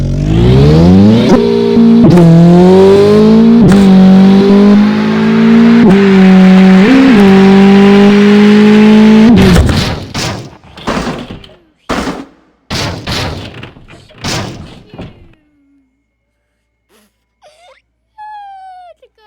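A car in the Melon Sandbox video game revs with a loud sustained engine whine, then breaks into a series of sharp crash bangs and impacts that fade out into near silence.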